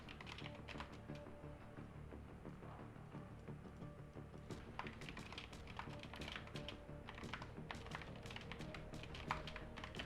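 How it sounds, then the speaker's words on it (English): Rapid, frantic typing on a computer keyboard, a dense continuous stream of close key taps with no pauses, fairly quiet, with no voices over it. "He's frantically typing."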